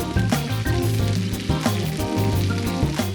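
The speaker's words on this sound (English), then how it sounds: "And then I fry it for about 5 to 6 minutes on each side until it's fully" Chicken coated in homemade pesto fries in a pan, a dense, steady close sizzle with crackling pops and faint clinks throughout, no one speaking.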